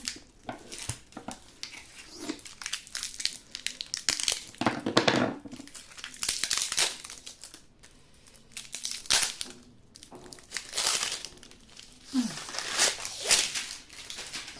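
Crinkly plastic wrapping rustles and crackles in uneven bursts as a package is pulled open up close, with a voice speaking intermittently between the noises.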